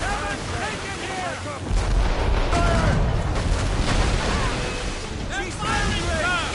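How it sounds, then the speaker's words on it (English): Ship cannons fire heavy volleys in the naval combat of Assassin's Creed Rogue, deep booming blasts rolling over crashing ocean surf while crew members shout orders throughout. "They're firing, sir! Ready to hit them, sir! There it comes! Round it all on! Fire heavy volleys! Fire!"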